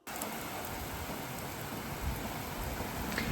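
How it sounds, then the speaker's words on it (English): Heavy rain pours down steadily in late summer, a dense, continuous hiss of drops on surfaces that stays loud and even throughout with no voices. "this is all the rain that we haven't had over the summer, because we've had none"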